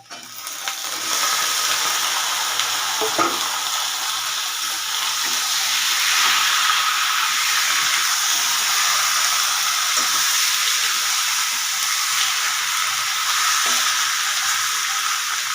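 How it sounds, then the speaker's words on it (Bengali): Browned onions fry in a pan as marinated chicken goes in, a steady broad sizzle and hiss that holds at a constant level throughout, with a few faint knocks underneath. "এবার আমি ম্যারিনেট করে রাখা মাংসটাকেও দিয়ে দেব"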